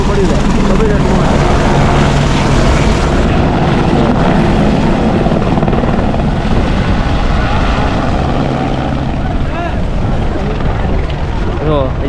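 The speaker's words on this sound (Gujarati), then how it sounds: "આ બધા એ જ હેલિકોપ્ટર છે" A helicopter at the Kedarnath helipad roars loudly and continuously with a heavy rotor thrum, staying close and steady throughout.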